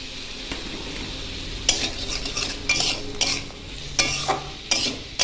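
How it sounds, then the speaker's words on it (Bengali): Diced potatoes frying in a pan with salt, turmeric and chopped chilli: a steady sizzle under repeated sharp scrapes and clinks of a spoon stirring against the pan, close and fairly loud with no talk. "আলুগুলো দিয়ে আমি প্রায় 2 মিনিট ভালো করে ভেজে নেব"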